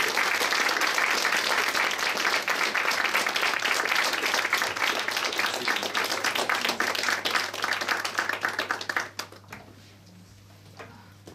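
An audience at a talk show applauds a guest, dense clapping held steady at full volume for about nine seconds before dying away into quiet room tone.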